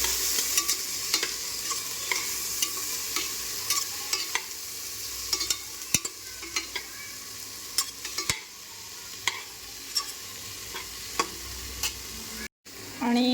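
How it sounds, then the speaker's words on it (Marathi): Washed vegetables for a pavata rice dish are sautéed in a hot pan, a continuous soft sizzle broken by frequent sharp clicks and scrapes of a spoon stirring, close and steady, with a brief cut near the end. "या भाज्या घालूया मस्त परतवून घेऊया छान परतवून घेऊया"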